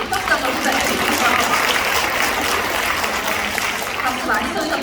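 Dense, steady audience applause at a business seminar, a continuous broadband clatter of many hands filling the whole stretch at even loudness with no pauses.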